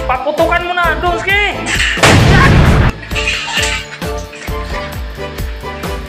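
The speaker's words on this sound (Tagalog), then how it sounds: "Paputukan mo na, Donski!" A birador firecracker bursts in one loud, sustained blast lasting about a second, with people shouting and talking close by before and after.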